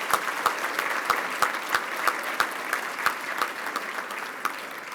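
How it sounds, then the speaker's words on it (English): An audience at an awards gala claps in a steady, moderately dense round of applause, individual claps distinct and evenly paced, heard from a middle distance with no voices. "Let's give all these phenomenal women another round of applause."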